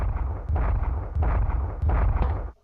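A Magnum revolver in Resident Evil Survivor fires four heavy booming shots at a slow, even pace, each blast ringing out loudly before the next and the last cut off abruptly.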